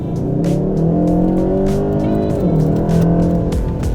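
A 2023 Kia K5 GT turbocharged sedan accelerates hard in Sport Plus mode with traction control off, its engine note climbing steadily through the gears in a loud, continuous roar with a brief shift dip, heard from inside the car.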